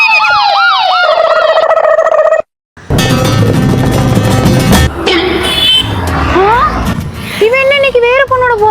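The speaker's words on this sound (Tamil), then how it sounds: "ஆம்புலன்ஸ் கூப்பிடு." An ambulance siren wails loudly and close with sweeping rising and falling tones, broken by a brief silence and jumbled street noise, then returning with shorter whoops.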